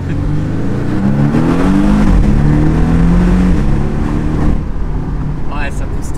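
A Porsche's four-cylinder engine pulls hard under heavy acceleration, its loud, rising roar climbing and shifting pitch for several seconds before easing off.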